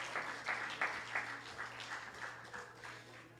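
Applause from a church congregation during a service, a moderate patter of hand claps with a few distinct sharp claps early on, heard over a steady low hum.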